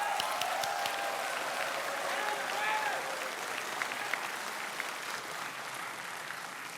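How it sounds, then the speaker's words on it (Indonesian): An audience at the 2014 Indonesian presidential debate breaks into applause, moderately loud and fairly even, with a voice audible over it. "Kita berikan tepuk tangan kalau itu."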